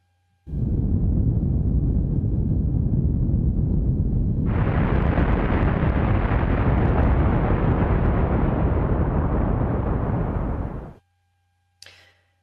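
Data sonification tone representing a large area burned by wildfire: a dense, loud roaring noise that starts abruptly, broadens sharply midway, sustains for about ten seconds, then stops, followed by a brief faint blip.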